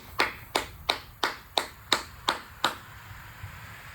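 Eight sharp, evenly spaced hand claps ring out close by at a steady rhythm of roughly three per second, then stop, leaving quiet room tone.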